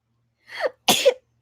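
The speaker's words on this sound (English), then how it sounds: "I need to sneeze." A single sharp sneeze with a short breathy intake before it, loud and close, then quiet.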